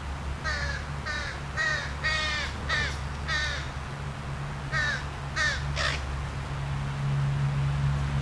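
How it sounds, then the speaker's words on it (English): Young crows give a series of hoarse, rasping caws in quick bursts over a steady low hum, fairly close by. "that's baby crows. So they've got their own little noise that they make."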